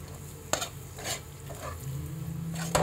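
Turmeric halwa stirred and frying in ghee in a pan gives a soft sizzle broken by several brief scraping stirs, quiet and close with no talk.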